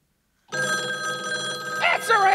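A telephone rings loudly in a musical theater scene, a continuous electronic trill that starts abruptly, with voices cutting in over it near the end.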